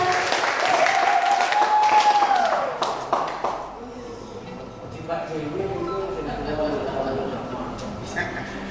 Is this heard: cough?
no